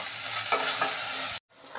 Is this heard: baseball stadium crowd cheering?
no